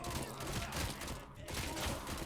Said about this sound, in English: the guns handle well, the shooting is quite satisfying